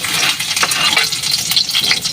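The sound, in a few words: garlic sizzling in hot cooking oil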